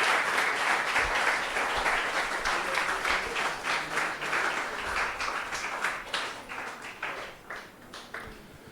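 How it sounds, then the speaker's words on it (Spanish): A church congregation applauds together during a worship service, a dense, steady wash of many hands clapping that runs throughout, loud and continuous before gradually thinning toward the end. "Le damos un aplauso al Señor."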